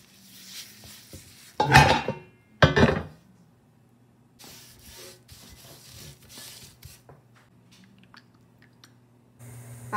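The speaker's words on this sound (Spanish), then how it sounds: "Aquí ya tengo todos los sartenes y el comal en el horno." Cast iron pans and a griddle being set into an oven, two loud clanking metal bursts close by followed by quieter scrapes and knocks of metal on oven racks.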